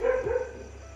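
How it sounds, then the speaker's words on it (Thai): A dog on a rural garden property gives one short, loud, close bark late at night, followed by a quiet tail. "ดึกแล้วเห่าอะไร"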